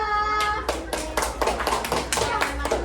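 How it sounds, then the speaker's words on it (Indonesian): A small group claps in a classroom, the sharp hand claps building into a brief, uneven round of applause, with children's voices faintly underneath. "Kita beri tepuk tangan untuk kelompok 2."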